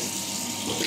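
A bathroom tap runs in a steady, close, full-bodied rush of water with no pauses and no voices.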